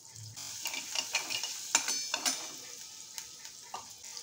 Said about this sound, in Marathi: ह्याच्यामध्ये मी हे 15 ते 20 लसणीच्या पाकळ्या आहेत, ते बारीक चॉप करून ॲड केलेले आहेत.